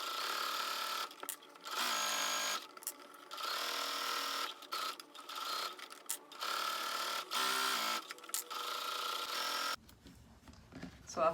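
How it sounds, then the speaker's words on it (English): A sewing machine stitches down the two long sides of a drawstring bag handle in several bursts of steady whirring, separated by short pauses, close and fairly quiet. "So I'm going to sew down the 2 long sides only."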